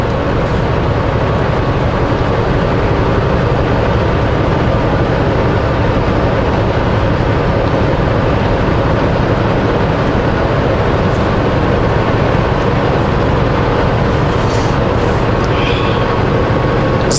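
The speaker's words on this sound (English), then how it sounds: "Climbing up hill, full power of the engine." A vehicle engine at full power climbs a hill, producing a loud, steady low drone with continuous rumble throughout, with no talk.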